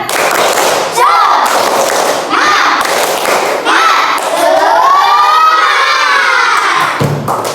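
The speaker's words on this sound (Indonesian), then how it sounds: "Tepuk semangat." Students in a classroom do a rhythmic spirit clap, loud and close, with children shouting and cheering over the clapping.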